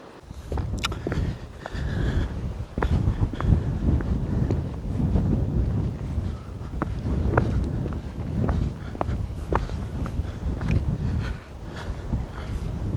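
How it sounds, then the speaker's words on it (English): Strong wind on the Devon coast at Budleigh Salterton buffets the microphone with loud, steady low rumbling, plus a few faint clicks and footsteps on a coastal walk. "It's windy most of the time, as it's expected, isn't it?"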